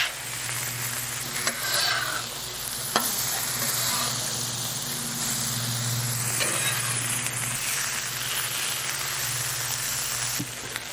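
Cabbage and beer brats sizzling on a griddle, a loud continuous hiss and crackle with occasional scrapes and clacks of a spatula as the food is flipped, no talk.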